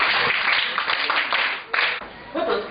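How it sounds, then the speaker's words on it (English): Schoolchildren clap for a classmate in a community classroom session, a short burst of light applause that rises and fades in uneven waves, with some chuckling. "Clap for him."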